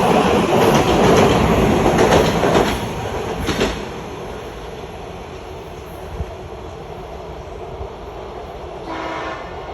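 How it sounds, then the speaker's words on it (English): An older Washington Metro subway train rumbles past loudly with clattering wheels, then fades to a steady distant rumble before a brief rise near the end. "this old train has more louder horn than the 7K"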